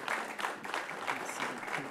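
An audience applauds a prize laureate at an award ceremony, with dense and steady clapping from a room of people heard close and fairly loud for a couple of seconds.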